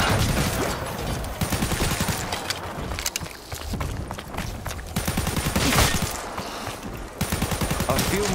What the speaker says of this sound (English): A few more shots, that's all I've got.